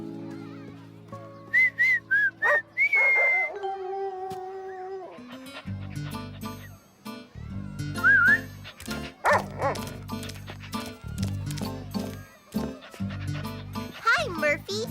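In a children's cartoon, a whistled melody is followed by a dog barking and yipping as it comes running, with cartoon music and a cat-like yowl mixed in, plus characters talking throughout.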